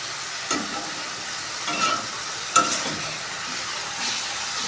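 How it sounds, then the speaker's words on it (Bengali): Spice paste for rui fish kalia sizzling steadily in a pan as it is sautéed, a continuous broadband crackle with a few brief louder stirring scrapes spaced through the stretch, no voices. "মশলাটা এখন কিছুক্ষণ ধরে কষাবো"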